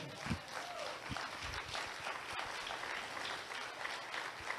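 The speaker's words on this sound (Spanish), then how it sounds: "Denle un aplauso al Señor" A church congregation claps in worship, a faint, distant wash of applause with a few heavier thumps, recorded quietly in a large room.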